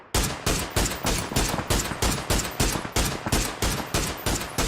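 Rapid bursts of automatic gunfire in an esports match of a shooter game, loud and close, a steady hammering rhythm of repeated shots with no talk over it.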